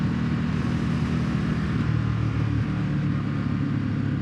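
A Ducati Desert X motorcycle engine and exhaust runs steadily close by, a continuous low throbbing drone with no pauses or clear revs.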